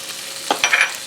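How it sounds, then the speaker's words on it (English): A spoon stirring a simmered butternut squash mixture with sage and nutmeg in a pan, a few quick scraping, wet clicks over a faint background sizzle, close and brief. "Stir that up"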